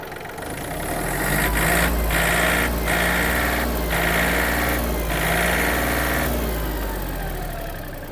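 A Yanmar AF-324 mini tractor's diesel engine runs steadily and loud up close, its revs rising and falling in several distinct pulses as the throttle is worked.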